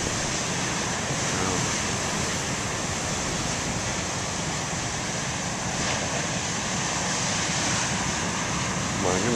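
Huge ocean waves break in a continuous roaring wash of surf, loud and close, with steady broadband noise and no distinct pauses between sets.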